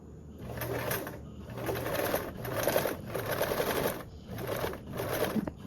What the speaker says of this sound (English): then I'll continue to sew